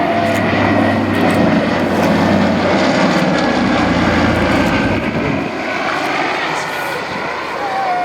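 Twin radial engines of a PBY-5A Catalina amphibian droning loudly and steadily as it flies past at an airshow, a broad continuous roar that eases slightly toward the end, with a voice faintly present underneath.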